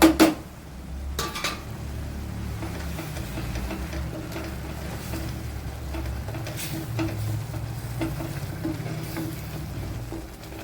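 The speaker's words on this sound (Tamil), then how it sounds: "லேசாக கிளறி விட்டுக்கிடுவோம்" Kadai paneer gravy stirred in a pan, opening with a few sharp metallic clanks and then a steady low bubbling and scraping, close up with no talking.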